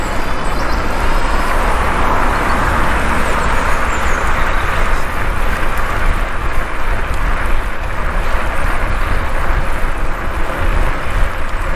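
An ENGWE EP2 electric bike ridden at speed on power assist 5 in seventh gear makes a steady, close roar of wind and road rush that holds constant without a break.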